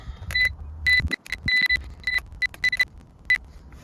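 A diagnostic scan tool on a Porsche 911 emits a series of short, sharp electronic beeps, some single and some in quick clusters, over a low steady engine rumble.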